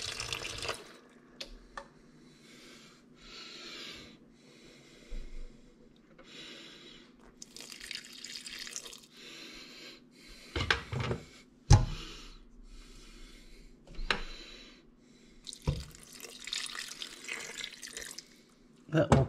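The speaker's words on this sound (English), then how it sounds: "I'm going to drizzle some water over these" Water drizzled a little at a time over Lithuanian cabbage rolls in a pot before simmering, with intermittent trickling and splashing bursts separated by quieter pauses, close to the microphone.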